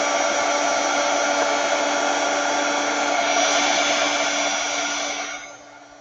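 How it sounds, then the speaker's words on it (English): Heat gun drying paint on a craft project, a steady loud whooshing blower hum held continuously before tapering off as it shuts down near the end. "Let's do the heat gun."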